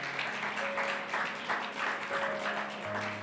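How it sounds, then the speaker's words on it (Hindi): A church congregation claps during a Hindi-language worship sermon, a dense, steady wash of applause lasting a few seconds, with a faint sustained tone beneath it. "ताली बजा सकते हो?"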